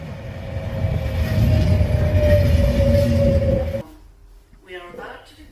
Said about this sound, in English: the next train at platform 2 is an Avanti West Coast going to Birmingham New Street